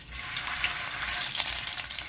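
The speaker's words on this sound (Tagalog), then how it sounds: "Iprito ko lang ng saglit." Homemade hotdogs frying in a pan give a steady, close, broadband sizzle with crackling spits throughout, with no talking.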